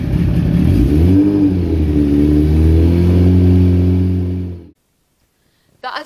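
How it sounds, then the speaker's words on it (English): A motorbike engine runs and revs, its pitch rising and settling in a steady idle, then cuts out abruptly, leaving near silence before a brief clatter at the end. "Start the engine and get it warmed up."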